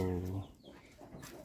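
Chicken clucks and calls in an old rural village, loud and close over the first moment before fading into quieter yard ambience.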